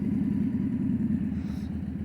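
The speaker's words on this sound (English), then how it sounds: "who the hell rides motorcycles so early?" An early-morning motorcycle rumbles by on the street, a steady low engine drone heard at moderate distance and holding throughout without any voices.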